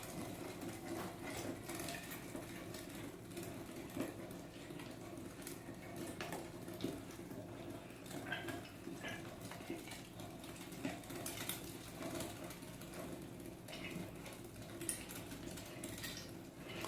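A Kitchen Basics 3-in-1 electric grinder grinds meat with a steady, low mechanical whir. Faint clicks and rattles sound throughout, and the grinding runs on its own without talk.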